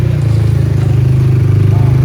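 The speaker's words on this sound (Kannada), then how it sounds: "ಈಗ ಬೈಕ್ ರೈಡಿಂಗ್ ಮಾಡ್ತಾ ಇದ್ವಿ." A motorcycle ridden on a trip with friends, its engine running steadily and loudly up close with a continuous throbbing drone.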